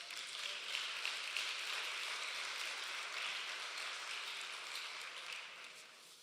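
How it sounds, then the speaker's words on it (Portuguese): A church congregation applauds, sustained dense clapping from many hands at moderate distance, steady then slowly tapering toward the end. "Você pode aplaudir este Deus?"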